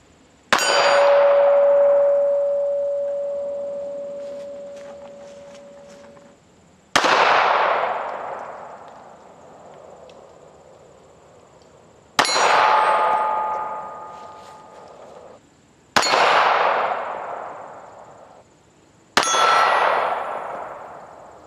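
Five loud metallic clangs from a Smith & Wesson Bodyguard 380 pistol's rounds striking steel targets 20 yards away, each a sharp ring that decays slowly over a few seconds, spaced irregularly with no talking.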